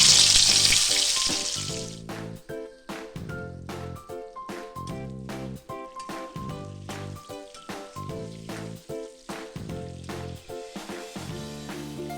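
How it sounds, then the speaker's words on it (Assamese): Pointed gourd (potol) frying in hot oil in a wok, a steady close sizzle with repeated scraping and stirring clatter throughout, with no talking. "পটলখিনি ফ্ৰাই কৰিবলৈ কেৰাহীত তেল দি দিছোঁ। পটলখিনি তেলত দি দিছোঁ।"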